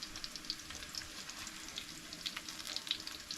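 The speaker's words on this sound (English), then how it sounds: "we'll just leave that in there and fry that sucker a bit longer" Potato pancakes fry in a pan at an off-grid cabin, giving a quiet, steady crackle with scattered bright pops and spits, close by and with no talking.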